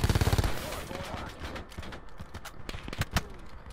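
Gunfire in the shooter video game Call of Duty Black Ops 4: a quick burst of rapid shots opens, then scattered sharp reports and impacts follow over game noise, with a voice talking faintly.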